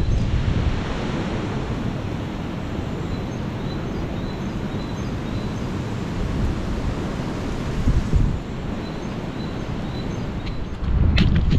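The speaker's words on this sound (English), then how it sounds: "Hear the wind in the trees." Strong wind roars through trees in a continuous broadband rush, with gusts swelling and buffeting the microphone near the end and no speech.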